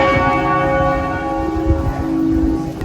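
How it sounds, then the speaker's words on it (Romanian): Church bells ring in Malta, a dense sustained peal with overlapping tones filling the air steadily throughout, fairly loud and near, with no talk over them. "cred că e o sărbătoare, că toată ziua au bătut așa clopotele"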